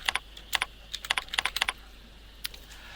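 Computer keyboard typing a supplier invoice number, quick irregular clusters of close key clicks with short pauses and one last tap, no talking.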